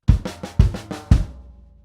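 A full bar of rock drumming on a close, dry kit, with toms, snare and bass drum and a harder accented floor tom hit: seven quick strikes in a two-beat grouping, ending on a ringing hit, no voices.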